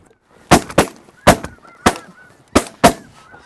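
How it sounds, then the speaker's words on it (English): Snow geese honk loudly and close during a goose hunt, six sharp separate calls landing in pairs against an otherwise quiet background. "I'll crush a snow goose."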